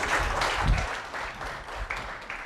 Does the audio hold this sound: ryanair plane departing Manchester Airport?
no